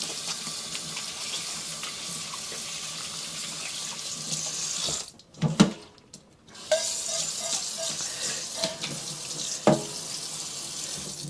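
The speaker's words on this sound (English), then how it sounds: "Wash my hands again." Water runs steadily from a kitchen tap into a sink as hands are washed, a continuous hiss broken by a brief pause mid-way before the flow resumes with small splashes.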